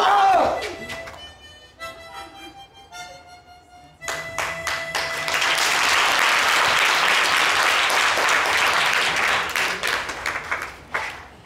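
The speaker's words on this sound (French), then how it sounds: "On va encore les applaudir." Audience applause for performers at a French holiday talent-show final: a brief musical passage gives way to a loud, sustained burst of crowd clapping that swells, holds, then thins out near the end.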